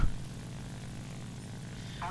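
An aircraft engine drones steadily in the War Thunder tank battle game, a continuous mid-level hum with a brief thud at the start and a rising tone near the end.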